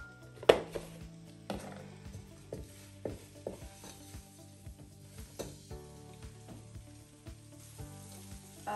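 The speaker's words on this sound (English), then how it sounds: "I'll saute this for like a minute until the fish is fried very well." Fish sautéing in a hot pan for Nigerian okra soup: a loud, continuous sizzle broken by frequent clacks and scrapes of stirring, with no voices.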